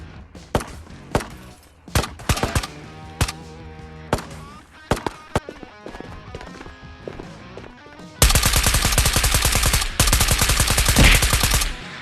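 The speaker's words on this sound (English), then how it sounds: "I heard some shots that changed the game" Gunfire in the online shooter game Tarkov: scattered sharp single shots and short bursts, then a sustained rapid burst of automatic fire, loud and close.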